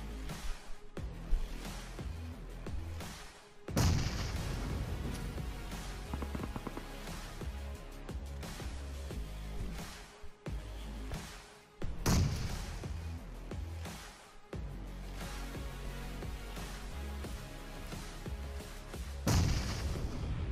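Grenades go off in the mobile battle royale BGMI (PUBG Mobile), several loud deep blasts at intervals of a few seconds, each bursting over a constant rumble of gunfire and game noise.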